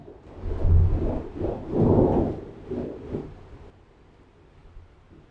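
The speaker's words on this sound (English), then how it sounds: "Can you hear the storm?" Rumbling thunder from a storm outside, rolling in two or three broad swells over about four seconds before fading to a quiet background hiss; no voices.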